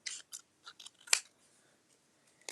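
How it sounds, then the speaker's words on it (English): Big scissors trim paper for a straight edge on a winter ink landscape painting, giving several short, close snips in an irregular rhythm, one louder cut midway, then quiet before a final snip. "I'm going to use my big scissors for this so I get a nice straight line"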